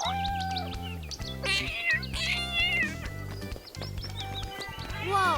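Several high, sliding cat meows ring out over a steady looping melody in The Sims, with chirpy bird-like sounds mixed in.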